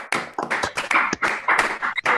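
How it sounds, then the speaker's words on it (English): Warm applause from a small group at a PhD thesis defence: dense, close hand clapping that keeps going with a ragged, uneven rhythm and no voices over it. "try to be a warm applause and congratulations for work"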